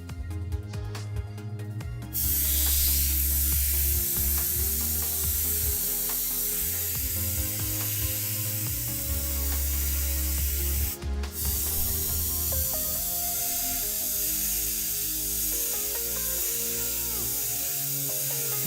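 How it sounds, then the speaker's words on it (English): A close airbrush hisses steadily with thick paint, the continuous spray broken by short pauses and small mechanical clicks, with no talking. "So if I can get some paint to come out of this nozzle."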